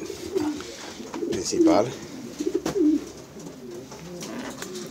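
Racing pigeons coo inside a loft, with soft repeated throaty calls close by and someone speaking now and then among them.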